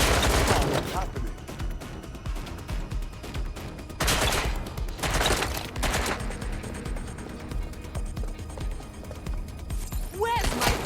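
Gunfire in Watch Dogs Legion, played on PS5: dense bursts of automatic fire crackle and rattle in waves, loud and close, with short pauses between volleys and a shout near the end.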